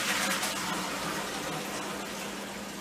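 Liquid mash pours steadily into a still as it is changed over between runs, a continuous close gushing, watery rush lasting throughout with no voices.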